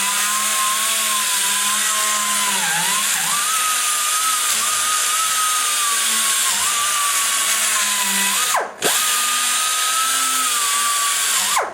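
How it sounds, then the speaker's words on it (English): A power tool spins a sanding roll against the edges of a small-block Chevy 186 cylinder head, producing a loud, steady high-pitched whine that dips briefly as the tool is pressed against the metal and then lifted. "So I take a brand new sand roll, and what I do is I kind of go around the edges."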